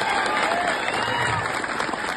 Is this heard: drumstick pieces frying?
no